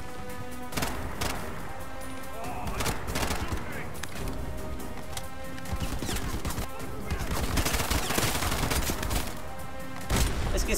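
Gunfire in the video game Bright Memory Infinite, with dense rapid bursts of automatic fire and sharp shots piling up continuously in a loud, chaotic firefight with occasional booms.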